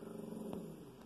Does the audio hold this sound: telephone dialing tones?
no